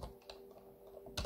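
Keys clatter softly on a computer keyboard while a domain name is entered during a mail server install, with a few quiet taps and a brief louder burst at the end.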